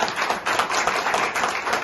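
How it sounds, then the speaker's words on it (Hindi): Audience clapping at a seminar, steady dense applause from many hands at close range throughout the short stretch, with no speech over it. "तो एक बार जोरदार तालियां आपके उस दोस्त के लिए जिसने आज"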